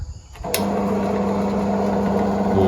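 A Mollar BD013 13mm bench drill switching on with a click and then running at a steady, smooth motor hum with a constant whine. It is loud and close, and nobody speaks.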